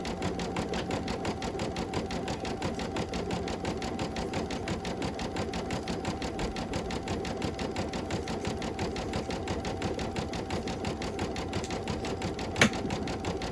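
An embroidery machine stitches a Halloween quilt block in a steady, rapid needle rhythm, running continuously nearby with one brief click near the end and no speech.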